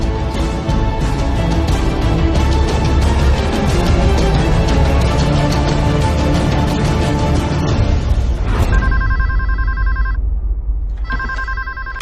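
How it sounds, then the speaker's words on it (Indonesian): An office telephone rings loudly and steadily, repeated electronic bell tones over a busy room noise, pausing briefly and then ringing again near the end, in a scene from an Indonesian film. "ada telepon"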